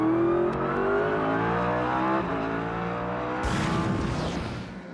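Grand-Am race cars roar loudly and continuously close by on a wet track, engines revving and shifting, with a sharp surge of broadband noise near the end as cars pass.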